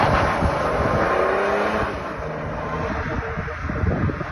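A BMW F10 530d with the N57 diesel engine drives past, engine note under heavy wind buffeting, loud at first and then easing as it moves along, with no one talking.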